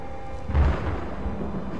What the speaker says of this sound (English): what you just heard there is the leaders of High Hrothgar calling the Dovahkiin